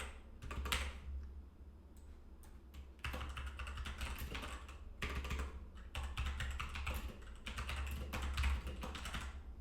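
Steady typing on a computer keyboard while code is written for a multi-region backend deployment, with dense bursts of clicks and brief pauses over a constant low hum, no talking.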